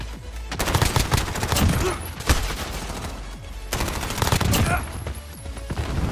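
MP5 submachine gun fire in a Call of Duty Modern Warfare match: rapid bursts of close, loud automatic shots in two long volleys with brief gaps, plus scattered extra gunfire around them.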